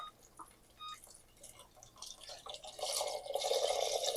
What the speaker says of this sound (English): Now I'm going to put the rest of the broth in